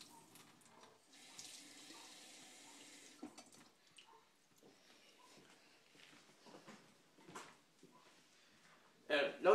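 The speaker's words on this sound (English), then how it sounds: "That way the water can just pour out smoothly without having any pauses in between." Water pours steadily out of a plastic bottle into a sink, a smooth running stream with light clatter and a louder burst near the end, with no pauses in the flow.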